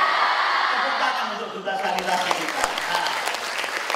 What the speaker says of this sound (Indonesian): Tepuk tangan untuk duta sanitasi kita.